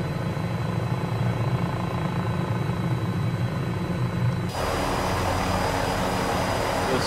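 Cowansim M500E helicopter engine in Microsoft Flight Simulator, a steady loud turbine and rotor drone that holds throughout, shifting to a brighter, more hissing tone partway through with no talk.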